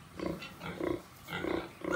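A newborn piglet grunts in a farrowing pen just after the sow gives birth, several short rough grunts in quick succession, close and fairly loud.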